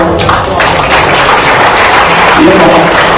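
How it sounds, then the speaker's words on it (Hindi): A large crowd at a government award ceremony in Bhopal attended by the Chief Minister claps loudly, and the dense applause is mixed with voices throughout. "एक बार जोरदार तालियां।"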